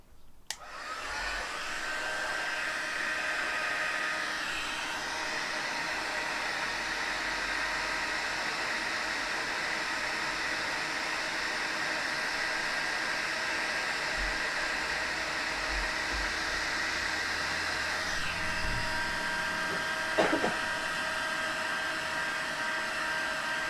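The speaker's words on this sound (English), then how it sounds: "we're just going to heat set that, so it's just going to get a little bit noisy" A heat gun blows steadily for over twenty seconds, a constant loud whooshing roar while heat-setting white embossing powder on a Christmas card, with a faint bump near the end.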